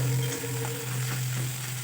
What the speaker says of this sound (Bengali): এরপর আদা রসুনের থেতো করাটা আমি দিয়ে দিলাম। এটাকে খুব ভালোভাবে আমি ভেজে নেব।